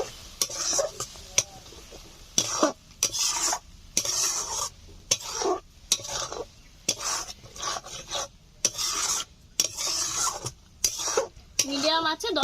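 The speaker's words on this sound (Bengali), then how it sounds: "10 মিনিট মতো নাড়াচাড়া করে চালটাকে হালকা ভাজা ভাজা করে নেব।" Rice being stirred and lightly fried with spices in a pan, a rhythmic series of scraping, rasping strokes with brief pauses between them and a soft sizzle underneath.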